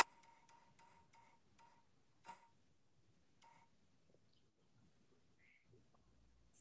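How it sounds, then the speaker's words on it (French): A spinning prize wheel ticks in a quick run of clicks that slow and stop within a couple of seconds, followed by one or two faint later ticks against a quiet background. "Je fais tourner la roue."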